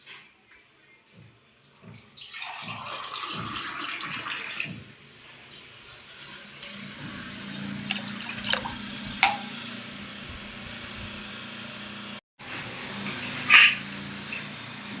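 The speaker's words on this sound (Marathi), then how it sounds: "थोडंसं पाणी टाकू, अजून पाणी घेऊ थोडं." Water is poured in two steady stretches into a pot of toor dal already seasoned with salt, turmeric and oil, a close, rushing splash with a brief pause between pours and small clinks at the end.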